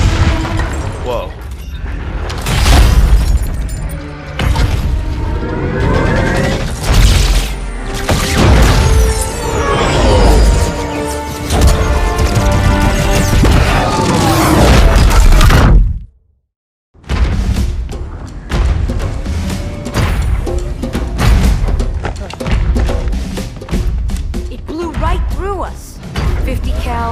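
Rocket blasts and battle noise in Halo 2 Anniversary: a loud, dense stretch of booming impacts and rumbling explosions mixed with a cinematic score, cut by a brief silent gap and then more heavy blasts. Voices speak beneath the din.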